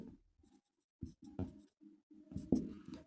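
Pen or chalk writing, a series of short scratchy strokes with brief pauses between them, close and fairly quiet, with no talking over it.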